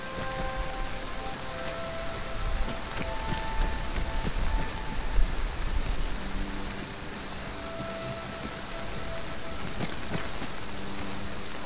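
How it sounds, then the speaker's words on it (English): Steady, dense rain pours across the whole stretch in a zombie survival video game set in Livonia, a continuous hiss of drops on surfaces with faint tonal game ambience underneath and no talking. "This rain feels so realistic by its noise."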